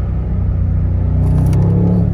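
A BMW M850i convertible accelerating with a loud, close engine rumble that builds steadily over a couple of seconds, with no one speaking.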